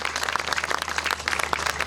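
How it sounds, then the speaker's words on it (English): Crowd applause for the baton relay bearers at the Glasgow 2014 Queen's Baton Relay in Oxford, England, loud, dense outdoor clapping from many people, steady throughout. "one more round of applause for our baton relay bearers today"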